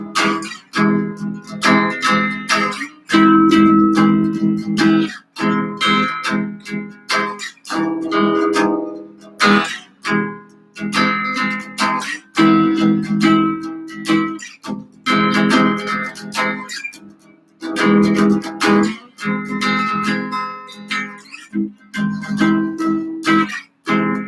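Strummed guitar rhythm chords on the bottom four strings repeat in short bursts with brief gaps between them, close and fairly loud, with no talking.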